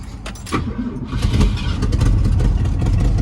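A 1966 Ford Thunderbird engine cranks briefly, then catches and runs, settling into a rough, steady rumble that grows louder and fuller.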